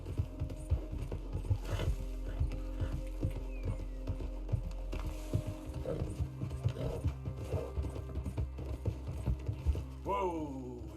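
Horse hooves clip-clop at a steady walking rhythm in Red Dead Redemption 2, close and clear over a low in-game ambient hum, with occasional faint mechanical clicks and a brief rising whinny-like tone near the end.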